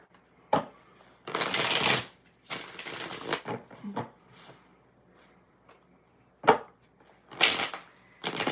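Cards riffled and shuffled in several loud bursts, separated by brief pauses and a few sharp taps, close up with no talking.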